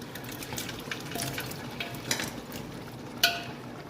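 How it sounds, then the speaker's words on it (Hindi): Rice for a tawa pardesi pulao is stirred and fried on a flat tawa, giving a steady close scraping and sizzling wash with occasional metallic clinks and one sharper clank near the end, with no talk. "चावल जो डाले थे वो तो जनाब अभी मुश्ताक भाई इसको घुमा रहे हैं।"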